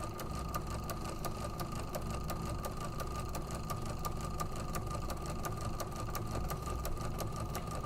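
Sewing machine running steadily through long sewing sections, a continuous mechanical whir with a fast, regular needle clatter that holds at an even level throughout with no voices.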